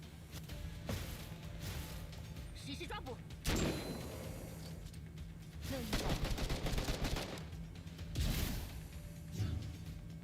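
Video game gunfire rings out in several loud bursts of rapid shots, clustered near the start, middle and end, with quieter stretches and faint game noise between them.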